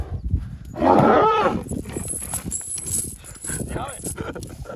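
A mare being moved about outdoors, with hoof clip-clops under nearby talk, a louder burst of noise early on and background chatter throughout.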